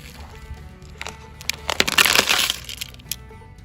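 Rocks clatter into a rock tumbler barrel, beginning with a few scattered clicks and then a dense rattling pour in the middle before tapering to single knocks, close and fairly loud.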